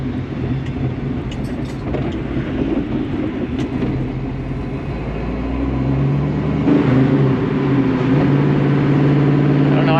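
A car with a 347 stroker engine that is down on power runs with a low, rumbling drone that swells louder partway through, heard from inside over road noise.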